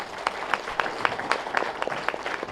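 Audience clapping at a meditation gathering, a steady patter of many hands with a few louder individual claps standing out, moderately close, no speech.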